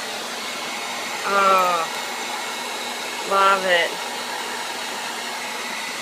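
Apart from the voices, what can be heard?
blow dryer blowing on a dog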